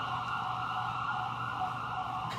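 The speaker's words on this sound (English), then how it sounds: "And the sirens go." An emergency vehicle siren wails steadily and loudly throughout, a continuous tone with steady bands and no talking over it.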